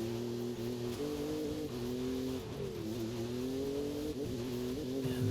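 Racing car engine in Forza Horizon 5 drones steadily throughout, its pitch rising and dipping with gear shifts and throttle changes, loud and continuous with no talk.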